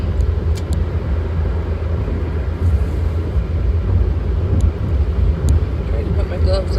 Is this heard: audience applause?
no